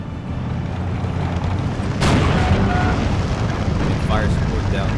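Artillery fire support in Steel Division 2 lands as a rumbling barrage, with one sharp blast standing out midway, amid dense battlefield noise and speech.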